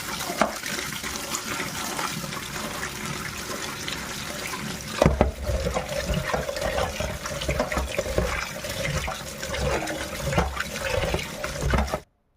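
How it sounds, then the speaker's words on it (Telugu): Freshly caught fish rinsed clean under running tap water, with a steady, continuous splashing flow that runs the whole time and stops abruptly at the end. "చూడండి ఇవన్నీ శుభ్రంగా ఇలా కడుక్కోవాలండి."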